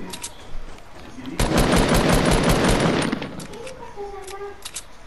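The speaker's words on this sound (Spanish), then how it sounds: "me disparan." A burst of rapid automatic gunfire aimed at the player in a battle-royale style video game, a loud dense volley of about two seconds amid scattered shots, with a voice speaking around it.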